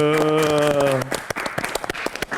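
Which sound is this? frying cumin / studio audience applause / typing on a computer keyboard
studio audience applause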